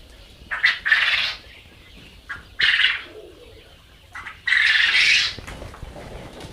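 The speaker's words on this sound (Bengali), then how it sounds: "এগুলো সব জাপানি কুয়েল পাখি" Several loud, harsh Japanese quail calls in short bursts, close by, with quiet gaps between them and no talking.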